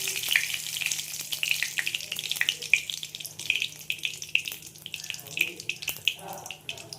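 Black seeds sputter in hot oil as a tempering for potol posto, a close crackling sizzle with sharp pops and faint clatter, with no voices.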